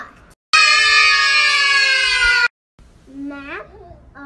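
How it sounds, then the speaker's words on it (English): A girl's sustained, piercing scream holds loud and steady for about two seconds, then breaks off; after a pause a shorter wavering, whiny vocal rises and falls. "They scream a lot."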